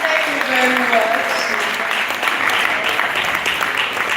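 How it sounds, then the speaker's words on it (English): An audience at a live health initiative event claps loudly and continuously, with cheering voices mixed into the applause. "Please give him a resounding round of applause"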